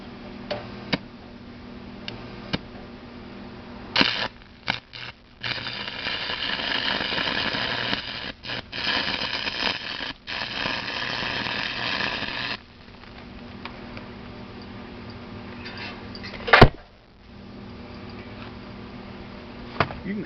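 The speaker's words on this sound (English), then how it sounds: "Get this back in here, we'll weld on the other side." A crackerbox arc welder works on a thin aluminum piece, about 50 thousandths thick. A steady crackling hiss runs for several seconds amid scattered clicks and ticks, then drops back to quiet background.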